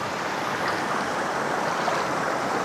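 Strong rush of river water at Malaking Ilog in Barangay Kayrilaw, Nasugbu, a dense, steady roar of churning current filling the air without pause, close and loud with no voices.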